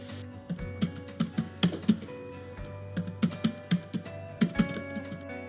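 Typing sound effect added in Adobe Premiere Pro: rapid clusters of crisp computer keyboard key clicks in short bursts with brief pauses between, close and clear, no voice.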